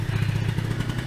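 A motorcycle engine idles close by after a carburettor idle-jet adjustment, running in a steady, even low throb with a quick regular pulse.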